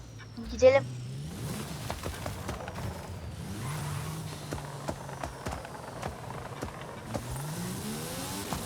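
Engine of a powerful car in Forza Horizon 5 revving up and accelerating in repeated rising sweeps, fairly close and steady with some game effects, while a voice talks over it.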